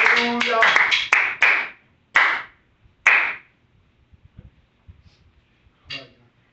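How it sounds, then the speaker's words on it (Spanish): Clapping from a Pentecostal church congregation starts as a quick flurry of sharp claps, then thins to a few isolated claps and dies out, with a brief voice near the end. "¿Por qué no le das un fuerte aplauso a Jesús?"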